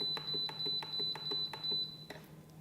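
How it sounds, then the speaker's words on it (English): Rapid series of short button beeps from a soup maker as the plus button is pressed repeatedly to set a 20-minute timer, evenly spaced clicks and tones, faint and close. "all you have to do is press the plus button until you get up to 20 minutes"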